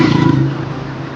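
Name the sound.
motorcycle engine starting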